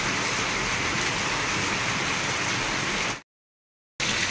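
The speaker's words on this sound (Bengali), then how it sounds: "আজকে আমাদের এখানে কি বৃষ্টি হচ্ছে দেখো, সকাল সকাল এত বৃষ্টি।" Heavy morning rain pouring down, a dense, steady hiss of drops hitting surfaces that runs unbroken, then drops out abruptly for under a second before resuming.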